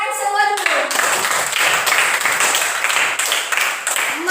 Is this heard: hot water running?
no